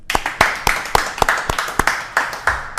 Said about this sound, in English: Can I have a round of applause for Mr. Larry Hazzard Sr.?